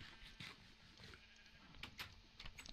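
Sheep bleating in Minecraft, a few short game bleats standing out over a steady low background, fairly quiet overall.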